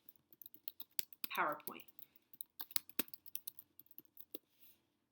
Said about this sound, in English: I'm going to type in scientific method